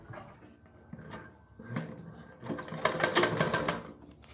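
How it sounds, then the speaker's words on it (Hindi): Sewing machine stitching piping onto the neckline of a kurti, running in short bursts with pauses between them, then a longer, louder stretch of steady close mechanical whirring and needle clatter. "ये देखिए हम यहाँ पर इतनी चौड़ी सिलाई लगा रहे हैं"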